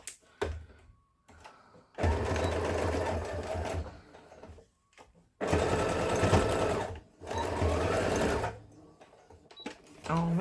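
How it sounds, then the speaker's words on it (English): A sewing machine stitches over a fabric Bible book sleeve in several bursts of fast, rhythmic whirring, close and clear, separated by short quiet pauses. "I'm just going to go ahead and sew it over again."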